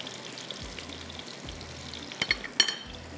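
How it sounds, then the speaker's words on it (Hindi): Spices, curry leaves and green chillies fry in a pan for a spicy rice tarka. A steady, soft sizzle runs throughout, with a few sharper crackles and pops near the end. It is close and there is no talking. "ये यहाँ पर फ्राई हो रहा है"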